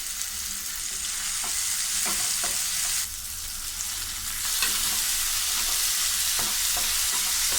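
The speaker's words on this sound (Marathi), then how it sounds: "कोलंबी चांगली आपण 3 मिनिटं परतून घेतली आहे।" Prawns sautéing in a pan with onion, tomato, a pinch of salt and coriander give a steady, close sizzle with occasional stirring scrapes; no one speaks.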